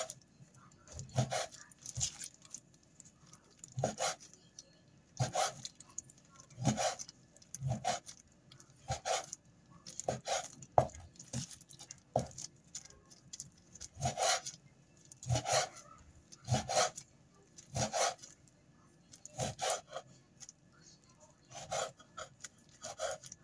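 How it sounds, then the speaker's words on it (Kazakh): A knife slicing red fish on a cutting board, a steady series of sharp, rasping strokes repeating roughly every second, close and moderately loud, with no voices. "Қызыл балықты осындай етіп турап аламыз."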